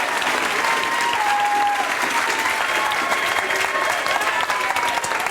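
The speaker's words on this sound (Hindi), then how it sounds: "हमारे तीनों के लिए ताली बजाओ।" A group in a classroom claps together in sustained applause, dense and even throughout, heard close with faint voices mixed in.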